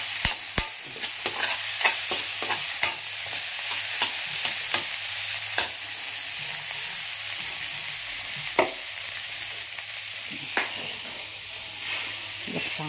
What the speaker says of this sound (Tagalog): Binibisa ko na yung bawang sibuyas kamatis